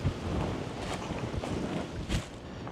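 Strong wind roars and buffets the microphone outdoors near a fire site, a steady broadband rush with heavier gusts surging at intervals, loud and continuous with no talking.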